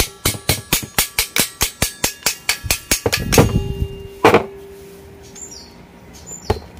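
Hammer blows on a vice grip clamped to a cordless impact drill's chuck, about fourteen sharp, evenly spaced metallic strikes close up, then a few heavier irregular knocks with a ringing clang and a lone tap at the end.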